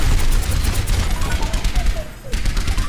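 Rapid gunfire in the Overwatch video game as a player shoots at D.Va's mech. A loud, dense stream of shots runs with only a brief dip, and a voice talks underneath.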